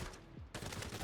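Rapid automatic gunfire from a weapon loaded with armor-piercing rounds in Arena Breakout: Infinite, a dense loud burst that cuts in abruptly after a brief quieter moment and continues to the end.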